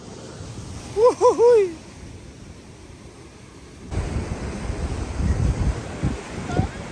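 Ocean surf breaking at the shore during a fishing outing, a steady wash of wave noise with wind buffeting the microphone; a brief vocal exclamation comes early, and the surf swells louder in the second half.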